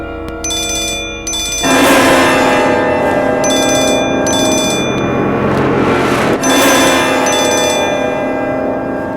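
A mobile phone ringtone chimes in repeated bright bursts, loud and near, over a dense layer of background music.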